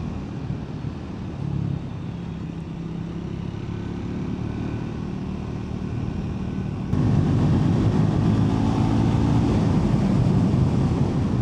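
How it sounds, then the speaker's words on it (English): A Triumph Speed 400 motorcycle, engine not yet run in, rumbles along on a test ride with a low exhaust burble as the throttle shuts off, a steady close engine and wind drone that swells louder partway through. "A lovely burble from the exhaust when you shut off."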